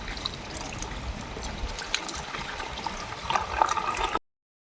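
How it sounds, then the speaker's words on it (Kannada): Water is poured into a sprayer tank while mixing treatment for Shankarpura jasmine plants, a continuous close splashing trickle that grows slightly louder before stopping abruptly. "ಫುಲ್ ಟ್ಯಾಂಕ್ ಆಗುವಷ್ಟು ನೀರು ಸೇರಿಸಿ ಅದನ್ನು ಮತ್ತೆ ಸ್ಪ್ರೇ ಮಾಡು"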